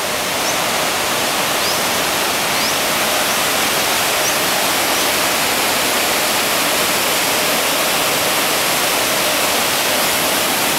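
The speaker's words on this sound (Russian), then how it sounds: "И с этой стороны еще водопадик." The Tad Somphamit waterfall in the 4000 Islands area of Laos roars with a dense, constant rush of falling water, loud and unbroken throughout.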